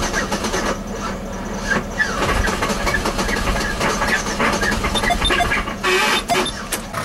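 A large diesel truck engine, run without oil or coolant, turns over roughly with uneven knocking and rattling, loud and close, sputtering without settling into a steady idle.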